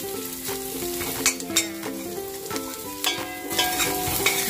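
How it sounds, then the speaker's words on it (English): Garlic and onion stirred in a frying pan over medium heat, giving a steady sizzle with scraping and utensil clatter on top, fairly close and without talk. "Gisa-gisa lang natin yung ating bawang tsaka sibuyas"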